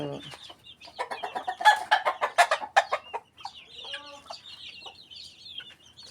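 Chickens and young chicks in a coop clucking and peeping in quick irregular bursts, close and moderately loud, with a few higher cheeps near the end.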